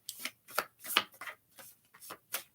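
Tarot cards being shuffled by hand, a run of soft riffling bursts in an irregular rhythm, close and fairly quiet with no talk.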